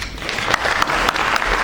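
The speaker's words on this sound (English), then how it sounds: "please give him a warm round of applause" Warm applause from an audience at an IDFA 2014 industry talk, a brief burst of many hands clapping, fairly loud and sustained for a short moment.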